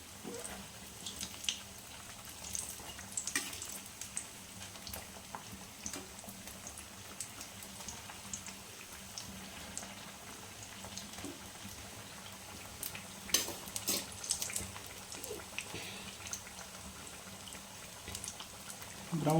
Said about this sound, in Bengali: তারপরে ভাজতে হবে ভালো করে